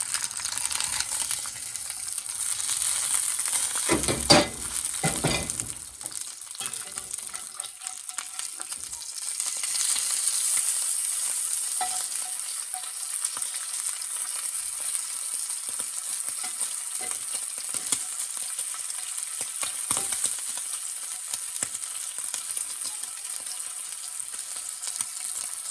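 Strips of wild hog bacon fry in a pan, giving a steady loud sizzle and crackle that runs alone throughout, with a burst of louder clatter and stirring near the start.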